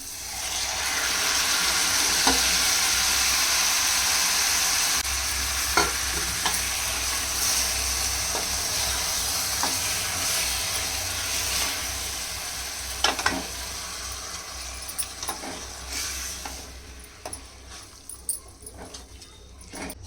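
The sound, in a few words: mutton frying in ghee with onions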